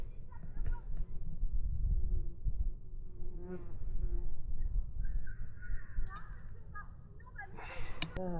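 A wasp buzzes up in a tree, its drone coming and going close by while a person talks over it and birds call in the background.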